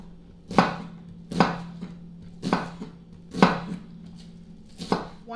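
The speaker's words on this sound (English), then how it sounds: "I'm using one whole, kind of a medium-sized onion." An onion, medium-sized and whole to start, being chopped on a board with a knife for chicken and rice soup, five crisp, evenly spaced knife strikes in a steady rhythm, close and clear, with no talking.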